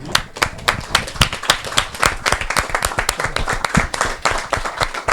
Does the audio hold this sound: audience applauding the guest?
yes